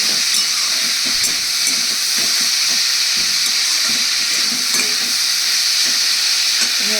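Mung dal frying with salt in a pan with a little oil, a continuous close sizzle and hiss with soft scraping stirs throughout.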